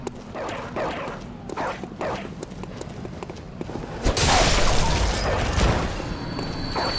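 In a PS4 video game, dogs bark and yip in several sharp, repeated bursts at close range. Louder mechanical game noise builds partway through.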